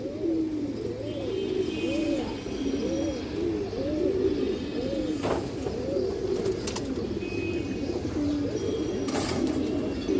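Silver pigeons in a loft coo continuously, with repeated rounded calls from several birds nearby and a few faint chirps in the background.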